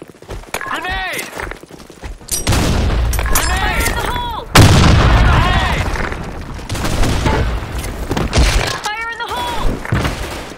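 Loud booming blasts and gunfire in a video game, with a heavy explosion near the middle and sustained rumbling, mixed with voices talking throughout.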